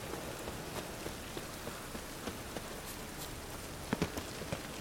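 Steady rain falls in The Witcher 3: Wild Hunt, a constant soft hiss of drops on surfaces with occasional sharper patters, faint and continuous with no talk.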